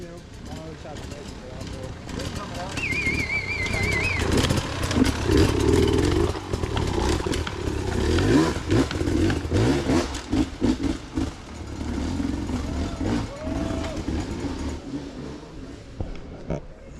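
Enduro motorcycles rev and labour over boulders at a hard-enduro race in Tennessee, engines rising and falling in uneven bursts with clattering over rock, and a voice talking over them for much of the stretch.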